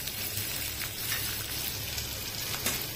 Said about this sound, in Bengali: তেল গরম হয়ে গেছে, আমি দিয়ে দিচ্ছি।